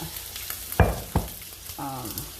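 Wet steak hits hot oil in a pan with a crackling sizzle and a couple of sharp pops, and the frying hiss continues beneath a short stretch of speech.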